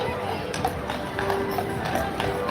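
A horse walks along a path at Disneyland, its hooves clip-clopping in an irregular rhythm at moderate distance, mixed with crowd chatter and voices talking over it.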